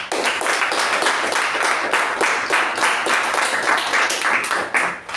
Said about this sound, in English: Let us give a big round of applause to all these.